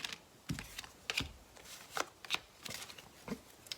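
Tarot cards are shuffled and drawn by hand in a quiet room, with about seven soft, crisp riffling bursts spaced unevenly, close to the microphone, and no voices.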